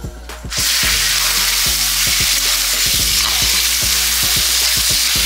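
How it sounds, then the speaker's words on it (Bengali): Loud, steady sizzling of shrimp frying in hot oil previously used for frying okra, with occasional clatters of stirring throughout. "ভেন্ডি ভাজার তেলে চিংড়ি মাছটা ভেজে নিচ্ছি"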